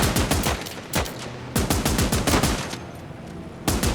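Rapid bursts of machine gun fire ring out during a battle in Last Train Home, a strategy video game, with loud repeated volleys and short pauses between them.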